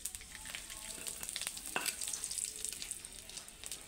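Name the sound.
panch phoron spices and bay leaf frying in oil in a wok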